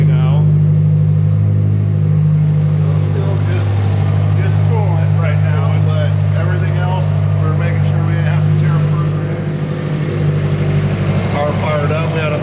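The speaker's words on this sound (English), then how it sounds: "It's idling properly now." A Subaru engine, fitted with tracks, idles steadily after a coolant temperature sensor fix, a loud low constant hum with faint voices talking over it.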